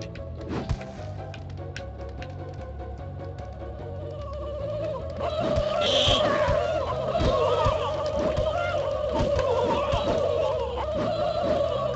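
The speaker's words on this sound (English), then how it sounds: "Do I seriously only fight fucking turkeys?" Turkeys gobble in a video game, their repeated warbling calls rising over a steady low game drone and growing busier and louder midway through.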